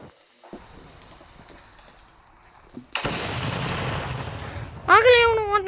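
A firework being lit and then bursting in a mobile game, with a quiet hiss, then a sudden loud sustained blast and a rising whistling crackle near the end.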